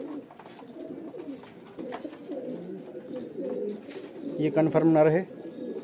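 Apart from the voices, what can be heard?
pigeon cooing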